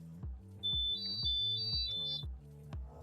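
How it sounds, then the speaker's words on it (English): A high-pitched electronic buzzer tone from a DIY water leak sensor holds steady for about two seconds, over a loud repeating rhythmic thumping in the background. "it will play this sound on my buzzer."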